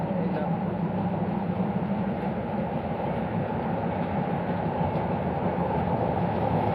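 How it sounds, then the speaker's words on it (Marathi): Matheran's toy train runs through the hill station during monsoon rain, a steady close rumble of rail transport that holds at one level throughout. "हे आहे टॉय ट्रेन, माथेरानची क्वीन टॉय ट्रेन."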